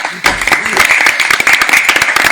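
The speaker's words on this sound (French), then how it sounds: "C'est le moment où on applaudit." A French audience applauds at a live evening event in Nantes, a dense, steady burst of many hands clapping close by, starting abruptly and continuing without pause.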